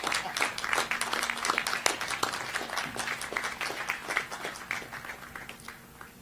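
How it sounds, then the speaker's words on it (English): An audience at a university commencement ceremony applauds, scattered individual claps forming a moderate, slightly distant round that gradually thins out toward the end. "We can't see them, but I'll applaud anyway."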